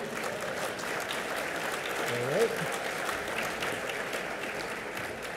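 Applause from guests at a parliamentary luncheon in Cayman, steady moderate clapping throughout, with a brief spoken remark partway through.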